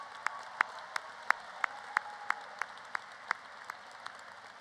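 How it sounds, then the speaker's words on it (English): Audience applause at a Class of 2025 graduation ceremony, heard as faint, distant clapping with sharp, evenly spaced claps standing out in a slow, steady rhythm. "Mrs. Lachansky, would you please stand so we can recognize and applaud you again for your incredible contributions"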